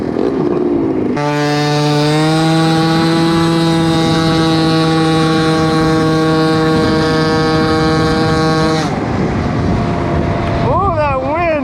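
A tuned 120cc two-stroke Honda Dio stroker scooter engine buzzes loudly close by, holding a high, steady rasping pitch for several seconds before dropping off, then blipping in short revs near the end.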